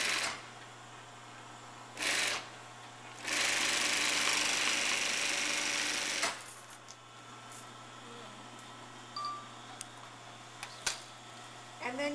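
Overlock sewing machine stitching along a fabric edge for an invisible zipper seam, running in two bursts, a short one then a longer steady whir of about three seconds, followed by quieter handling sounds.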